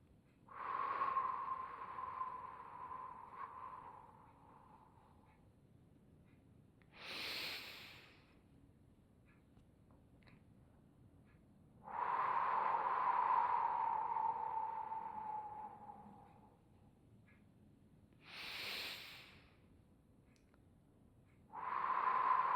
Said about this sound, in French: ça c'est la respiration pilates dans la posture la plus simple